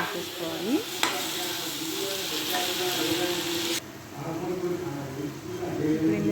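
Chopped mushrooms go into a frying pan of sautéed tomato for mushroom curry, giving a steady sizzle with stirring scrapes and a sharp clank, then the frying settles down.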